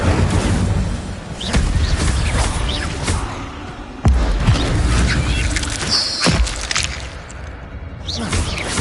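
Spell effects cast in the video game Hogwarts Legacy, including the Incendio fire spell, come as loud booming blasts and whooshing impacts in rapid succession. Several heavy thuds stand out over a dense, continuous game soundscape.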